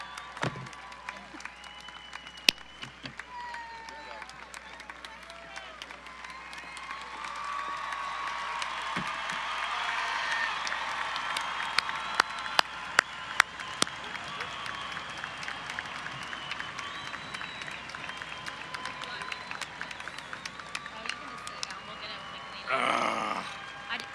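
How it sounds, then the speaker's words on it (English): A high school graduation crowd at Wylie High School cheers and applauds. Distant clapping and shouts build into a sustained roar that holds for most of the stretch, with an announcer's voice and nearby talk breaking in briefly. "It's going to be a loud cheer for you."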